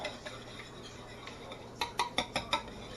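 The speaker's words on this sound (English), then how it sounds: "Break those eggs up a little bit." A fork or whisk beats four eggs with half a stick of melted butter in a bowl, a quick burst of about five sharp clinks against the bowl after a quiet start.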